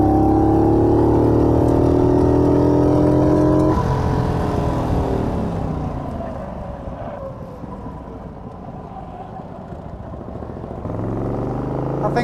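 A Morgan 3 Wheeler sports car's engine, around 80 horsepower, roars close by on a racetrack, revving high, then dropping off as the car lifts and slows before picking up again near the end.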